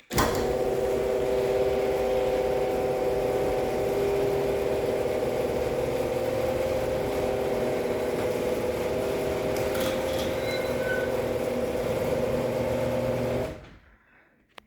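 A Genie GX9000 garage door opener on a small door runs with a steady, continuous mechanical hum and whir for about thirteen seconds, then cuts off abruptly to silence near the end.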